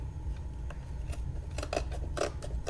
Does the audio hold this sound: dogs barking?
no